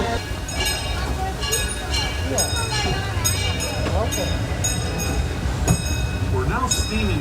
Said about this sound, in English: we're now steaming forward into the future in the train